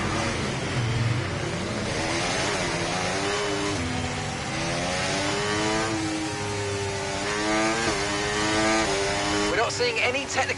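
An F1 car engine in F1 2024 screams through repeated high revs at a practice start, climbing and dipping in pitch, loud and close, while a radio voice talks over it.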